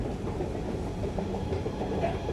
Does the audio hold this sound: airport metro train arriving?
yes